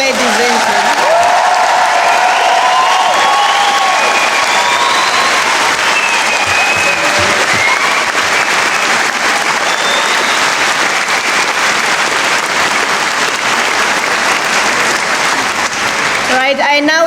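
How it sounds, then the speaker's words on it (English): Sustained audience applause fills a graduation ceremony hall for the Faculty of Health, Education and Life Sciences, a dense steady roar of clapping with voices over it, continuing loud throughout before tapering at the very end. "Can we give an applause to ourselves?"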